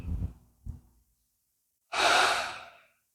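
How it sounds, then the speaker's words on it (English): Slow, deep breathing during a guided relaxation exercise lying on the back with knees bent: a couple of soft low inhales, a pause of quiet, then one long, loud breathy exhale close to the microphone. "Breathing into the low back, the sides, the belly, and then breathing into the chest"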